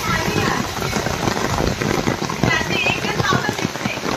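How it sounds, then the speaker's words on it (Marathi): Heavy monsoon rain in the Konkan countryside pours down in a dense, steady roar, with a voice talking over the downpour. "जोरात पाऊस चालू आहे"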